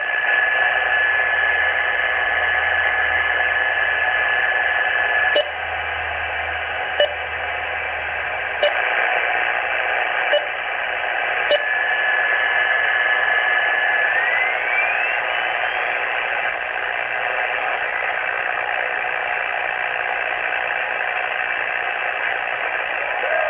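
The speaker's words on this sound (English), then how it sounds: "We're hearing digital stations." Ham radio receiver scanning the HF bands and picking up digital stations: a steady wash of hiss with data tones running throughout, broken by a few sharp clicks and a brief rising whistle, with no voices.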